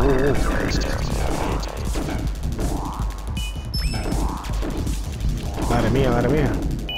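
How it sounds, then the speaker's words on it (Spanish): Retro twin-stick shooter Ultratron plays dense triple-shot gunfire. Rapid repeated blasts, crashes and electronic zaps stack continuously over a loud game soundtrack, with someone talking over it. "Disparo triple."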